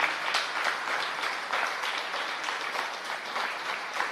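A crowd at a school's 30th anniversary annual day celebration claps for a dance teacher, a dense, steady round of applause lasting several seconds without a break.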